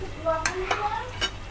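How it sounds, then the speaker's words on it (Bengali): A potato snack frying crisply in a pan gives a brief close hiss, broken by three quick utensil taps as the pieces are turned. "ভাজা হয়ে আসছে প্রায় সুন্দর একদম মুসমুসা শব্দ শুনতে পাচ্ছেন হয়তো"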